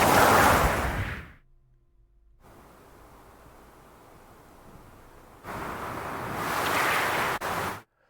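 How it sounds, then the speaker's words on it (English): Wind ambience for an animated Runeterra fantasy scene: a loud roaring gust that cuts abruptly to a faint hush, then swells back into a strong rushing blow before stopping short. "So the wind picks up and creates this background noise."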